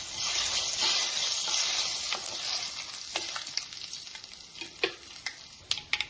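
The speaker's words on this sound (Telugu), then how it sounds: "పచ్చిపప్పు, మినపప్పు కొంచెం వేద్దాం. కాయగుళ్ళు కొంచెం ఫ్రై చేసుకుందాం" Chana dal and urad dal fry in a pan with hot oil, sizzling loudly at first and then settling into softer crackles and sharp pops as the lentils are stirred.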